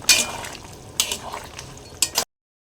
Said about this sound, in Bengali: এবার আলুটা দিয়ে দেব। দিয়ে একটু নাড়াচাড়া করে নেব।